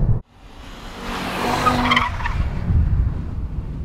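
Tires on a 2022 Audi RS3 squeal and skid as the rear slides outward while accelerating through a corner, the scrubbing noise building loud and steady after a short cut in the engine sound.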